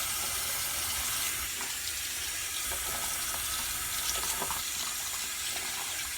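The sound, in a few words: water rinsing makeup brushes in a sink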